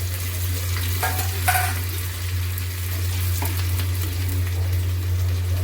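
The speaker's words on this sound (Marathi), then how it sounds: "जिरे कढीपत्ता आणि भिजवलेली मूग उडदाची डाळ" Cumin, curry leaves and soaked moong-urad dal sizzling in hot oil in a pan, a steady close hiss under a constant low hum, with a couple of brief clatters near the start.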